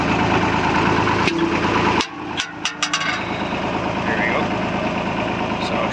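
A Massey Ferguson 35 three-cylinder diesel tractor idles with an uneven, misfiring chug, loud and close, broken by a brief dip and a few sharp knocks before the rough running resumes.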